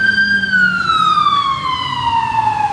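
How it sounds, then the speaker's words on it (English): An ambulance siren wails loudly in a city street near George Washington University, its single long tone sliding steadily downward in pitch as the vehicle passes close by over low traffic rumble. "here comes an ambulance going to GW, which is just behind me"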